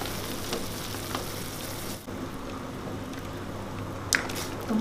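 Oil sizzles steadily in a pan as spicy noodles with mustard greens fry, a continuous crackling hiss with a few sharper pops and stirring clinks, with no talking.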